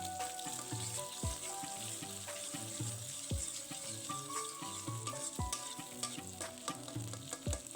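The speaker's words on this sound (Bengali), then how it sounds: "দিয়ে খুব ভালোভাবে ডিমটা আমি ভেজে নিব" An egg frying in oil in a wok crackles and sizzles steadily, with sharp spatula scrapes and knocks against the pan at a rough rhythm, close and fairly quiet, with no one speaking.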